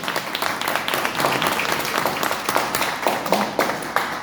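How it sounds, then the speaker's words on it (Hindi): Applause from an audience welcoming three gurus at a training event: steady, dense clapping that holds at an even level throughout with no voices on top. "एक बार जोरदार ताली से हम स्वागत करेंगे।"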